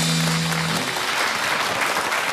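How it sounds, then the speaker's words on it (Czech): Studio audience at a talk show breaks into steady, dense applause, a broad wash of clapping that holds at even loudness throughout, briefly overlapping a low held tone at the start. "I ten poses, to si zaslouží potlesku."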